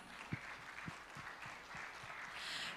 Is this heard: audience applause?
yes